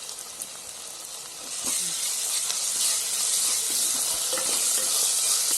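Ginger paste hitting reddish-browned fried onions in a hot pan for a Bengali bata fish curry, producing a steady, close sizzling hiss that swells louder partway through and keeps crackling.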